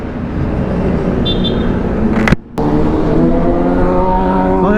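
Steady road noise and engine hum on a highway during a ride on a Yamaha NMAX 155 scooter, a continuous loud roar with a brief dropout midway and passing vehicle sounds.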